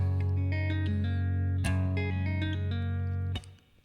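A clean, bright guitar riff plays a quick run of plucked notes with a couple of sharp accents, then the last note rings out and fades.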